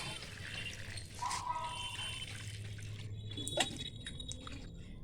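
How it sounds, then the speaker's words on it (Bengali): Water is poured over soil layered on vegetable peels for growing coriander and greens, giving a soft, close trickling and splashing that shifts in strength through the clip and ends in a few drips. "তারপর জল দিয়ে ভালো করে ভিজিয়ে দিচ্ছি"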